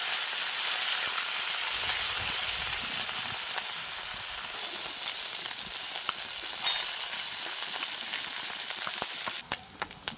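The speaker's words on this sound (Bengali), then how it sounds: "মাছ ভাজার জন্য কড়াইতে তেল দিয়ে দেবো।" Fish fry in oil in a wok, a continuous close sizzle and hiss that eases slightly partway through, with a few light clicks near the end and no talking.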